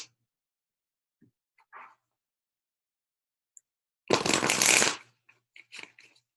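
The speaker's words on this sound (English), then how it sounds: "These cards are harder to shuffle. They're just like big and sticky." Large, sticky oracle cards are shuffled in one short, dense riffling burst of about a second, close and fairly loud, surrounded by near silence and a few faint taps.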